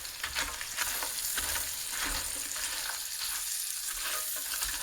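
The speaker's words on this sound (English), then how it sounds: "especially the tortillas, you want to make sure that they cook up or fry up like here" Tortillas sizzle and crackle as they fry in a pan over a medium flame, with steady popping and occasional stirring scrapes, close and without talk.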